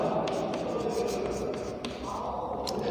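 Chalk or marker scratches steadily across a classroom board in short strokes, close and moderately quiet, with no talking.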